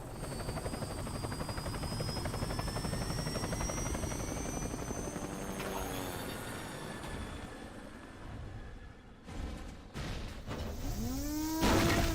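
Helicopter in the Metal Gear Solid 4 video game, a loud steady rotor thump and engine whine running throughout, briefly dipping near the end before swelling back with a rising whine.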